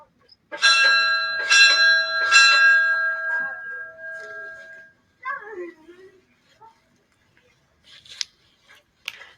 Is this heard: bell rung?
yes